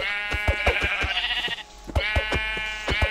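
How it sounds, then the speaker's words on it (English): Sheep in the Minecraft video game bleat in drawn-out, wavering calls, close and clear, with sharp in-game clicks and hits tapping rhythmically throughout. "There's a sheep."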